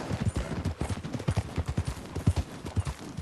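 Horse hooves clip-clop at a steady riding pace in Red Dead Redemption II, close and even, with faint voices now and then underneath.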